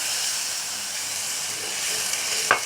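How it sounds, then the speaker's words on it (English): Hot water added to a hot pan with oyster sauce sends up a loud, steady sizzling hiss that runs on evenly, with one small clink near the end. "Add in the hot water."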